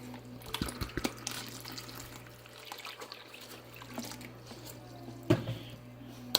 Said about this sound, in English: We're going to go ahead and put in another half gallon of water